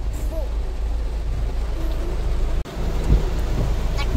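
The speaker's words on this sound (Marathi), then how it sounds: "आणि पावस खूप पडटा पळया फ्रेंड्स, दाखयता पळया पावस." Heavy rain pours steadily during the rainy season, a dense continuous wash of noise with a deep low rumble underneath, close and loud for the whole stretch with no talking.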